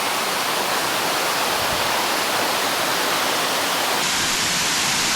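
A waterfall cascading down beside the steps of a hiking trail at Hanging Rock State Park, a steady, dense rushing roar that fills the whole stretch with little change in level.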